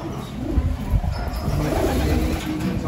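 Racing pigeons at a loft coo in low, soft murmurs, several birds overlapping in a steady, close bed of sound with faint background noise and no talking.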